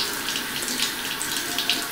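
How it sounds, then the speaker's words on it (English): Water streams steadily from a sink tap into the basin, a close, even hiss with slight splashing and no voices. "you're going to take it over to the sink, turn on the water."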